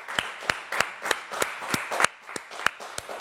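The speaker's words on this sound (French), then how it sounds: "On va les applaudir," Small group clapping at the close of an open-day event, sparse individual claps landing at an uneven rhythm, close and distinct, about a dozen in a few seconds.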